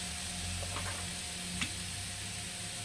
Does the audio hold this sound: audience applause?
no